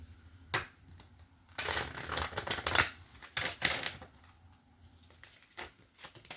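Tarot cards shuffled by hand in quick bursts of crisp riffling and slapping, close and moderately loud, with brief pauses between rounds and no talking.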